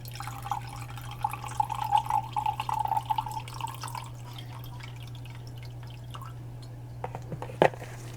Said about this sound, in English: we're going to add 90 grams of distilled water